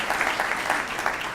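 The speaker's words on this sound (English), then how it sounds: "Let's give Ito a round of applause." An audience at a school district partners breakfast program claps together, a steady dense wash of applause that holds at an even level for the whole moment.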